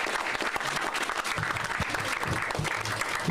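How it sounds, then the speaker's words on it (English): Audience applause at a check presentation event, steady dense clapping from a crowd filling the room, with a voice faintly audible underneath. "Clap it up, y'all."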